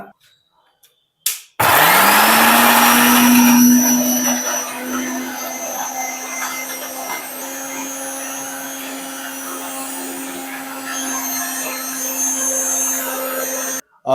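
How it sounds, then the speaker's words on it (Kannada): A mixer grinder grinding coconut masala whirs to life with a loud rising whine and runs steadily for several seconds before cutting off abruptly. "ಇದನ್ನು ಇವಾಗ ನಾವು ಮಿಕ್ಸಿಲಿ ಗ್ರೈಂಡ್ ಮಾಡ್ಕೊಳ್ಳೋಣ"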